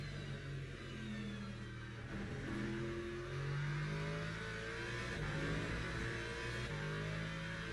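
Race car engine in the Le Mans Ultimate racing sim, revving up through the gears with rising pitch sweeps over a steady rumbling drone, loud and sustained.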